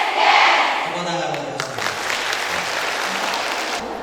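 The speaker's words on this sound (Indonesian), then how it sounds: "Tepuk tangan." Audience applause at an Indonesian parliamentary outreach event on domestic products, a burst of crowd clapping that swells and holds steady, with someone speaking over it.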